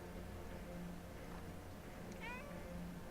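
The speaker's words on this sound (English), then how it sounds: "Kitty meows." A cat meows once in the point-and-click video game Primordia, a short, faint rising-falling cry over a steady low background hum.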